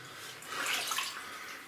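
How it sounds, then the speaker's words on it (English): Water streaming down from the upper level inside an old mine tunnel at Anyox, a faint hissing trickle and splash that swells briefly in the middle, with no speech. "this is where all the water comes streaming down from the top level of the mine"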